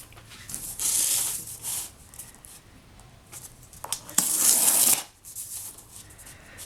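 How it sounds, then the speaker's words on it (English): Scored cardboard of a handmade packing box being bent and folded, giving two bursts of dry scraping and crinkling, one near the start and a louder one toward the end, with quiet handling in between. "you can see how the box will now begin to fold."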